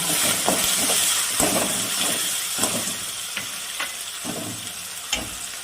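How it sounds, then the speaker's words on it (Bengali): Ginger paste and tomato paste fry in hot oil with a constant crackling sizzle, broken by repeated sharp clinks of stirring against the pan. "আমি তেলের মধ্যে আদা বাটা, টমেটো বাটা,"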